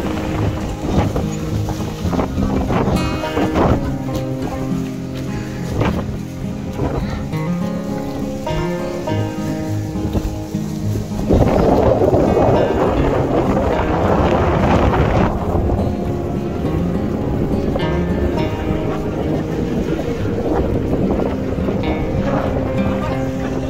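Speedboat crossing toward Bangsal from Gili Trawangan in strong wind, with constant engine drone, rushing wind buffeting the microphone and water slapping the hull, loud and close throughout, with occasional voices.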